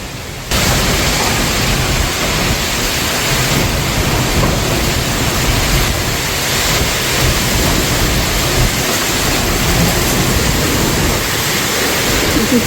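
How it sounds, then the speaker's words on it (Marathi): Heavy pre-monsoon rain pours down at Indapur in a constant dense hiss, with gusty storm wind rumbling underneath, loud and unbroken throughout. "अचानक वादळी वारा सुरू झाला आणि या वादळी वाऱ्याबरोबर जे पाऊस सुरू झाला"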